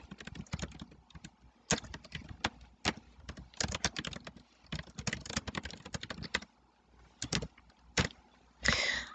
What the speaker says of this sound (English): So I will type something that is related.